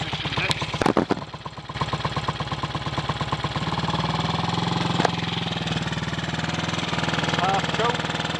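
A 1958 Triumph Tiger Cub motorcycle engine runs lumpy close by, a rapid uneven single-cylinder putter that settles into a steadier idle, with a few clunks early on.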